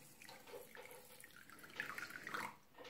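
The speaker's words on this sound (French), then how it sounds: "Je vais mettre de l'eau. On recouvre d'eau." Water being poured into a container to cover the contents, a soft continuous splashing trickle, fairly faint and close, growing a little fuller toward the end.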